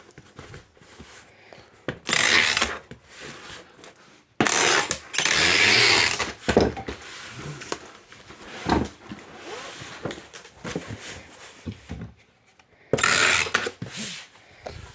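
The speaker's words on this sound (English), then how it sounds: "So we'll do this box like this flap, and then tape it on." Lightweight tape being pulled and pressed onto the flap of a cardboard box during packing, giving several loud bursts of tearing and rubbing with quieter handling noises between them.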